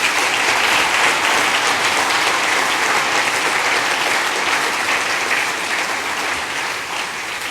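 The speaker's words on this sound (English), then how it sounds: "So a round of applause for that." At a technology summit conversation session in Grand Bahama, an audience claps in dense, sustained applause that holds steady for several seconds, then eases slightly toward the end.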